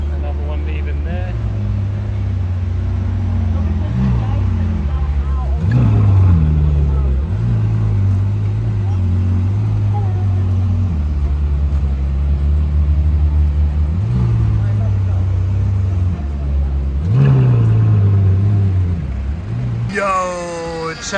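A supercar pulls away on Sloane Street in London, its engine note rising and shifting through repeated revs as it moves off, fairly loud and close, with people talking nearby.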